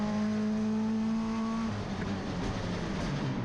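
A GT race car engine at Zwartkops Raceway idles with a steady harmonic drone, then the note drops away into rougher, broadband rumble as the car pulls out of a gravel trap, loud and fairly close with no talk.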